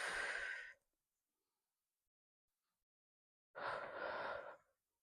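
A person breathes in and blows out during a gentle lymphatic-flow arm exercise: two strong, close airy breaths, each under a second, separated by a few seconds of near silence, with no speech.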